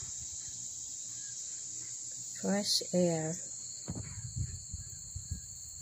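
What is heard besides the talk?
crickets chirping in backyard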